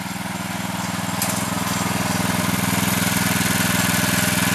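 A petrol power tiller engine runs steadily at close range, giving a continuous loud, throbbing drone with no speech over it.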